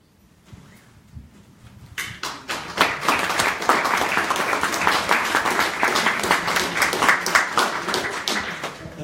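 An audience at the close of a public talk on Islamophobia in Canada breaks into applause, starting with a few claps, then building quickly into steady, dense clapping from many hands that holds at full strength to the end.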